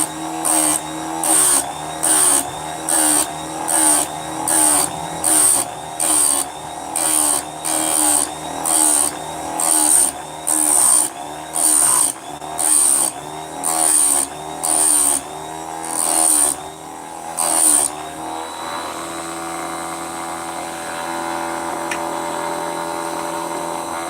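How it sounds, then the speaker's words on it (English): Angle grinder worked over badly rusted chains, giving loud, close bursts of grinding roughly every second for about eighteen seconds, then settling into a steadier whine as the pulsing stops. "These chains are pretty seriously rocked, so I'm hitting them with the grinder."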